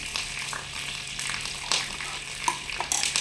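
Fenugreek seeds and curry leaves fry in hot oil for a fish curry, a steady close crackling sizzle with a few sharper pops and stirring scrapes throughout, no voices.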